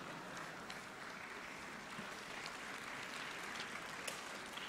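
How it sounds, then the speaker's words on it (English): Applause-like clapping blended into background music at a conference presentation, a steady dense wash of many hands at moderate level throughout. "I got the clap incorporated into the music."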